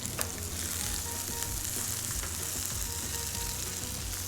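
Garlic fries in oil and butter with crushed shrimp heads in the pan, giving a constant close crackling sizzle with small pops and no talking.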